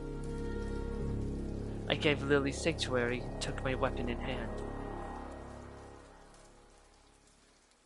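Rain in the video game Ender Lilies: Quietus of the Knight patters steadily beneath a narrating voice and slowly fades toward the end.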